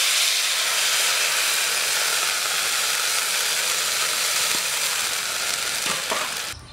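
Green plantain pieces frying in turmeric-seasoned oil in a hot pan in a village kitchen, with water poured in, giving a loud, steady, broad sizzling hiss throughout that eases slightly near the end.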